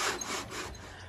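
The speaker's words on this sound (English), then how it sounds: "just sanding that down so we could upholster that one as well" A car interior panel being sanded down by hand, heard as close, continuous rough rubbing strokes with a few gentle pulses and no voices.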